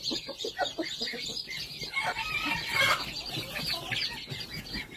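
Busy cheeping and clucking from many chicks and hens, including a bantam broody hen, close by and continuous, with a brief flutter of wings in the middle.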